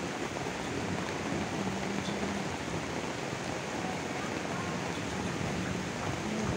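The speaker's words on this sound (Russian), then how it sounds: "шторм сразу начался, да-да, шторм, вон такие волны страшные" Stormy sea waves in Lloret surge in a continuous, even roar of surf and churning water, loud and unbroken with no voices.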